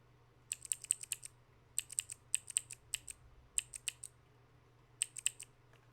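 Small clicky keyboard keys are pressed in quick, quiet bursts of crisp clicks separated by short pauses, close up over a low steady hum.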